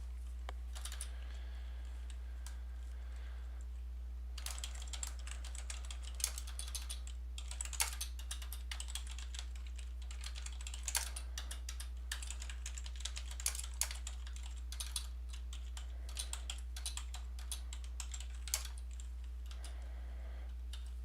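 Typing on a computer keyboard produces soft, irregular bursts of key clicks, close but quiet, over a steady low electrical hum.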